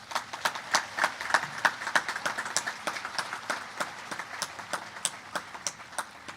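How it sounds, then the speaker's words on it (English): Audience applause at the Rock Hill High School class of 2020 graduation: sparse, distinct claps from a small group, repeating in a quick, uneven rhythm at moderate distance, with no talking. "Please join me in applauding the outstanding accomplishments of this class."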